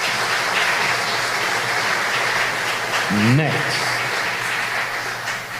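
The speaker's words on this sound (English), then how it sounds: "And another round of applause for Ms." Continuous applause from an audience at a tribute ceremony for Belizean patriots, holding steady throughout, while a voice briefly speaks over the clapping near the end.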